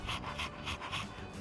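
Koromaru, a dog in the video game Persona 3 Reload, pants in quick, soft, rhythmic breaths, about five even huffs, close and alone.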